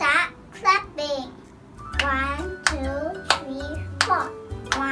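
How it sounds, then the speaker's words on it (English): Hands clap a steady four-beat rhythm in a music lesson, sharp claps sounding alone after a child-like voice speaks at the start. "Let's start clapping."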